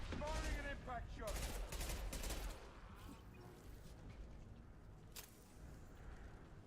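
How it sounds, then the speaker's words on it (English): Impact shot gunfire in the video game Mass Effect 2: a loud cluster of rapid shots in the first few seconds, then quieter background combat with one more sharp crack later, under a speaking voice. "Firing an impact shot."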